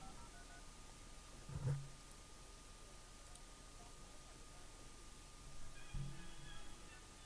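Telephone being dialed to call someone, faint steady tones with a couple of soft knocks or handling bumps, quiet and close with a low background hiss.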